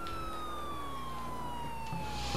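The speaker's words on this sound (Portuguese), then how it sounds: "A sirene ligada ainda pra tirar onda." A police car siren in the video game GTA 4 wails with a sweeping, slowly falling tone, loud and close, over a low engine-like rumble.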